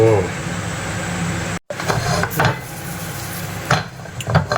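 Fresh chilies and garlic dry-roasting in a pan, stirred with scrapes and clinks of a utensil against the metal over a constant loud hiss, with a brief dropout partway through.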